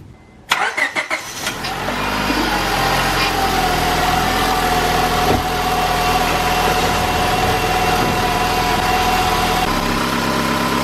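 A Honda Civic engine cranks and catches with a short burst of starter noise, then settles into a steady, even idle hum that continues close by, with no talking.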